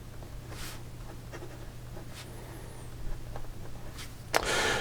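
A Montblanc (M)RED Signature fountain pen with an 18 karat gold nib and a generic black cartridge scratching softly across paper in short, faint strokes, ending in a brief louder rustle close by.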